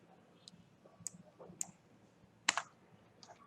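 Keystrokes on a computer keyboard while a command is entered at a command prompt, a few separate clicks spaced out over several seconds, with a sharper burst near the end against a quiet room.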